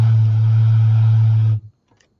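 White noise rings through a larger container, filtered into a steady low-pitched resonant hum that holds loud and even for about a second and a half, then cuts off abruptly.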